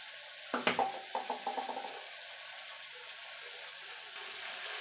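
Mustard paste with turmeric stirred in a pan, a quick run of light scraping clinks early on, then a soft, steady sizzle continuing alone.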